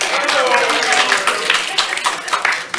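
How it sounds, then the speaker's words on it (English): Audience clapping at a city council ward meeting in Bedford, a moderately dense patter of hands heard fairly close for a few seconds with a voice murmuring underneath. "You can clap."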